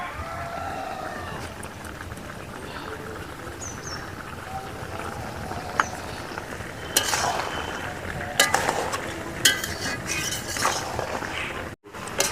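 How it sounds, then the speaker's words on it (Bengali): Village chicken curry being stirred in a pan just after chopped tomato goes in, with scattered scraping clicks and spoon knocks over a steady low sizzle, growing busier toward the end. "ঢাকাটা খুলে এবার আমি নেড়ে দেব"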